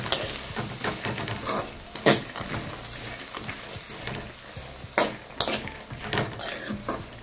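A spiced savoury breakfast mixture with red chilli powder or green chilli is stirred in a kitchen pan, giving scraping swirls and sharp utensil clinks against the metal at irregular moments, close and fairly clear, with no talking.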